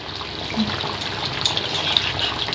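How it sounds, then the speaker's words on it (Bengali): Katla fish curry simmering in a pan with spiced gravy, giving a steady, close bubbling hiss with small pops throughout, no talk. "এটা একটু ফুটুক"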